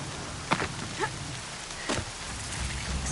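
Steady rain hisses across an outdoor scene in Horizon Zero Dawn, forming a constant wash, with a few brief soft knocks or steps breaking through.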